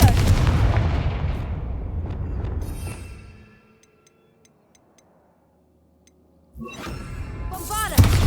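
A fire-based blasting spell cast in the Hogwarts Legacy video game booms out loud and dense across the first three seconds, fades into near silence with faint ticking, then a second loud burst of game sound returns at the end.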